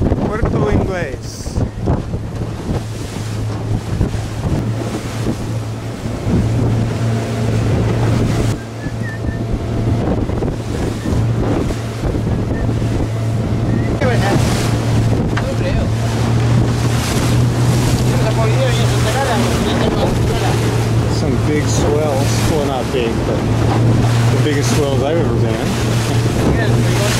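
An open lobster boat crossing roughly six-foot ocean swells off Isla Juan Fernandez, with a steady loud engine drone, wind buffeting the microphone, and water slapping and rushing against the hull throughout.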